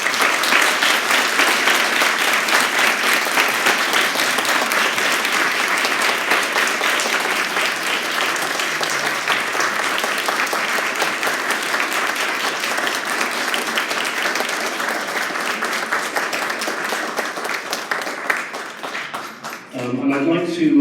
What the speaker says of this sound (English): give all of today's spellers a big round of applause